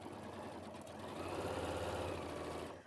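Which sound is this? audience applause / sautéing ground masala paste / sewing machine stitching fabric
sewing machine stitching fabric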